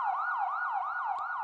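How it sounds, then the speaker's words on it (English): Wailing emergency siren, close and loud, sweeping up and down in a steady repeating cycle about every half second, with a brief sharp click near the end. "Suddenly, the sounds of sirens and car horns filled the air."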